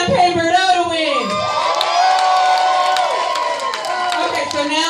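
An audience at a charity cocktail party cheers, whoops and shouts loudly in a continuous roar to vote for a drag contestant, with scattered clapping mixed into the steady crowd noise.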